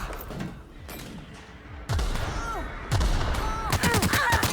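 Gunfire and grenade launcher blasts in the sci-fi shooter The Outer Worlds: Spacer's Choice Edition, with heavy bursts and booming impacts building to loud, dense volleys of shots and explosions.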